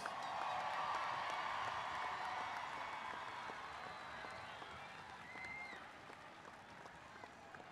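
A stadium crowd applauds and cheers for high school graduates, broad distant clapping with scattered whoops, fading gradually toward the end.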